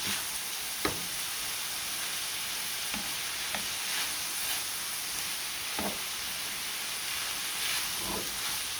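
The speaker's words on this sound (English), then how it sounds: "Okay, our peppers and onions are almost done." Peppers and onions for Mexican rice frying in a pan, a steady close hiss of sizzling oil throughout with a few faint spoon taps and stirring scrapes scattered across it.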